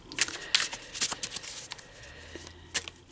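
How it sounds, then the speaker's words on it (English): A tarot deck is shuffled in quick bursts of crisp riffling and card flicks, close and moderately loud, with several distinct shuffles spaced across the moment and no talking. "we're going to take our deck and shuffle it up"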